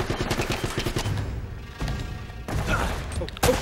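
Turret gunfire from the video game Uncharted: Drake's Fortune, rapid repeated shots in bursts mixed with impacts and game noise, loud and close throughout with no talking.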